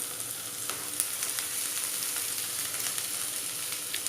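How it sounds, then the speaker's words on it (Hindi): Half-fried chicken pieces tossed and stirred in a hot pan for chicken chilli pepper fry, a steady broadband sizzle with a few soft scrapes of a spatula, close and continuous with no talking. "हमने चिकन थोड़ा हाफ फ्राई कर लिया था इसे डाल देंगे और मिक्स कर लेंगे अच्छे से"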